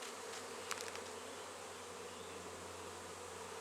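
Honey bees buzzing around a NUC box at an engine museum, a dense steady drone close by with a faint click near the start and no voices.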